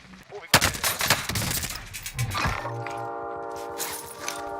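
Gunfire in an online shooter game: a burst of sharp, loud shots cracks in rapid succession, followed by a sustained tonal electronic hum, with a voice faintly underneath.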